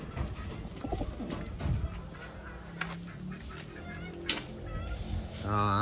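Medium-sized apple-bodied Taiwan pigeons coo softly amid a low outdoor hum and faint rustling, with quiet cooing throughout.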